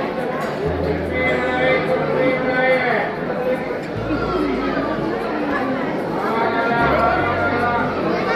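A crowd of devotees chatters at Jivdani temple in Virar, Maharashtra, a busy overlapping babble of many nearby voices with a low droning hum beneath, continuous and fairly loud.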